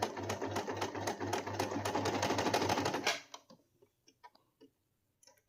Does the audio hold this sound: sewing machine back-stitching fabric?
yes